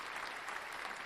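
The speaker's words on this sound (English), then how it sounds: "We can go ahead and clap that up." A crowd applauding at a podcast taping, a dense, steady clatter of many hands, brief and fairly close.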